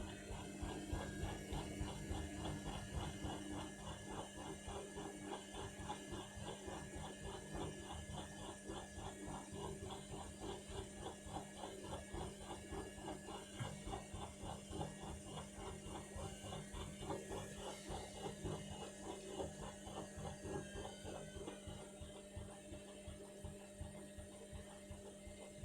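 An Indesit My Time washing machine on its final rinse makes a faint, steady mechanical hum with rapid rhythmic ticking and whirring, continuous throughout.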